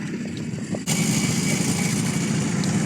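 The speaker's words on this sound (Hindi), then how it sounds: "शोर काफ़ी ज़्यादा है यहाँ गाड़ियों का, क्योंकि जब ये चलती हैं तो काफ़ी आवाज़ निकाल रही हैं।" Off-road vehicle engines running in dusty, remote mountains, a steady loud buzzing drone that swells abruptly partway through as another engine joins close by.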